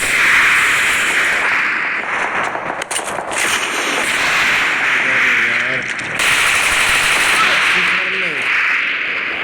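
Gunfire and an RPG blast in the battle royale game BGMI as a helicopter is destroyed, with sustained loud combat noise, sharp bursts around the middle, and someone talking excitedly over it.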